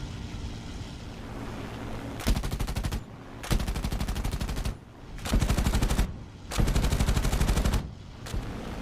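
Rapid machine-gun bursts rattle out in several sharp volleys, separated by brief gaps over a steady engine drone.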